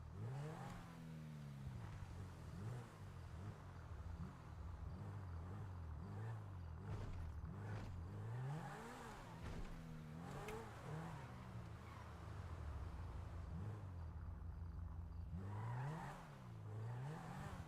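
Cars drive around in GTA FiveM, engines revving up and down in repeated surges with gear shifts and occasional tire noise, a continuous layered drone of several vehicles close by.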